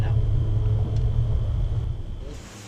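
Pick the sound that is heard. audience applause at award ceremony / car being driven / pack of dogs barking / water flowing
car being driven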